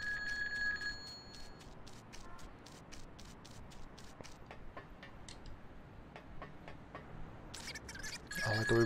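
Telephone ringing in the PC game Grand Theft Auto 2, a repeated electronic ring pattern of short bursts that runs steadily through the scene with game background noise and no talk.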